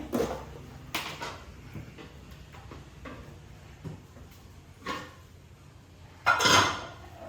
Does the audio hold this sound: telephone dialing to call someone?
no